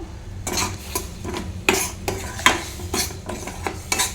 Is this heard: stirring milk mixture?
yes